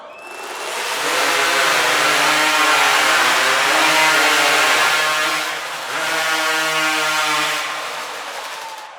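A hot saw roaring through timber in a STIHL TIMBERSPORTS race at the US Championship, a loud, steady high-revving engine howl that holds for several seconds, dips briefly, then surges again before fading.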